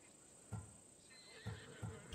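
A horse in Assassin's Creed Odyssey neighs and snorts in short bursts, four brief whinnies spaced across the moment, close and fairly loud over a steady game ambience with no talk.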